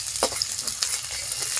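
Onion and garlic frying in a pan with a steady sizzle and a few brief scraping stirs, close and moderately loud throughout with no voices.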